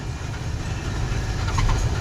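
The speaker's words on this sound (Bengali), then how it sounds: "এই যে ট্রেন আসা পড়ছে একদম সময় মতো।" A train passing near the Farakka bridge gives a loud, steady, close rumble of rolling wheels that swells slightly toward the end.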